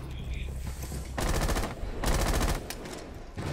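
A video game gun fires in rapid automatic bursts, two long loud stretches of fire with short pauses between them, heavy and close.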